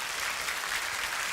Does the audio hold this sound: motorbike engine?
no